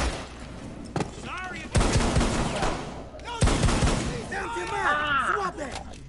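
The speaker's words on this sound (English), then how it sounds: "See, the gunfire keeps following you." Gunfire in the Rainbow Six video game, with loud bursts of shots around ringing, chirping effects and echoing booms, close and harsh.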